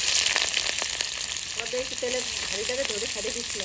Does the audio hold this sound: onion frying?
yes